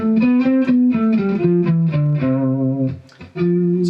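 A sustained, slightly distorted electric guitar plays a major (Ionian) scale, stepping through the notes, steady and loud with no talking.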